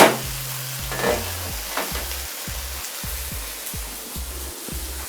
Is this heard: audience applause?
no